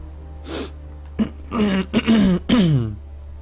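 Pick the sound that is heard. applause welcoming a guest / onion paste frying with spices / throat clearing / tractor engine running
throat clearing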